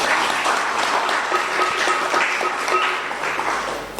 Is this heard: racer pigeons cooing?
no